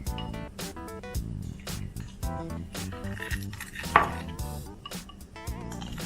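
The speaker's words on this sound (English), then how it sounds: "So, let's give this a stir. Ooh, wow. It's really thick" A utensil stirring thick jerky marinade in a bowl, close-up with repeated scraping, clinking and knocking at an uneven rhythm and one louder clink partway through.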